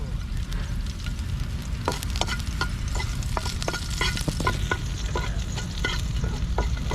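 Fish simmering and frying in coconut milk for ginataan, a dense steady sizzle with a low bubbling rumble and scattered small pops and clicks of stirring, close and continuous.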